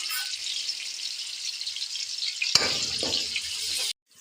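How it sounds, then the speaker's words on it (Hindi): Sliced onion sizzles in a pan over a high flame, a steady bright crackle with a brief stirring clatter partway through before it cuts off abruptly. "अब हम हाई फ्लेम पे इसको करेंगे फ्राई।"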